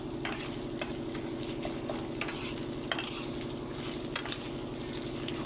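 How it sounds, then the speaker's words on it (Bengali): Ginger garlic paste fries in a pan with browned onions for chicken tehari, a close, continuous sizzle broken by scraping stirs and light clatter. "আদা রসুন দিয়ে ভালো করে ভেজে নেব।"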